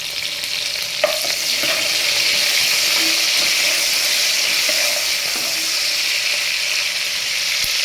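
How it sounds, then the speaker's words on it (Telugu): Cumin seeds, onions and curry leaves frying make a loud, steady hiss of sizzling oil, with a few crackles and stirring clicks early on and an even sizzle after that. "జీలకర్ర ఆనియన్స్ అనేది కొంచెం వేగాలి కరివేపాకు వేసుకోండి"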